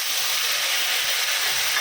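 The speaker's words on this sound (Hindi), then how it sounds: "अदरक लहसुन का कच्चापन जाने तक उसको अच्छे से भुनेंगे।" Ginger garlic paste sizzling in about half a cup of hot oil with garam masala for a Konkani-style fish biryani, a steady dense hiss that stays even and close throughout with no talk.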